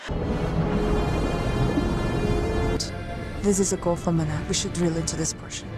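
Stormy weather with heavy rain and thunder rumble in a film scene of a submarine descending in rough seas off Sri Lanka, a steady roar under continuous narration, with a sharp crack partway through.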